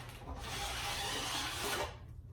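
A metal edge tool rasps steadily along a snowboard's steel edge in one long continuous stroke, a close, dry filing scrape that holds level for about two seconds and then stops.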